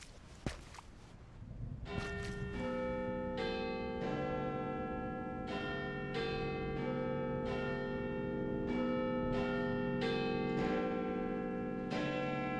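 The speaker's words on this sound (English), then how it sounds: "the sound of the bell" Church bell tolling repeatedly at a slow, even pace, each ringing strike sustaining and overlapping the next, fairly close and clear over a faint outdoor background near Hanwell.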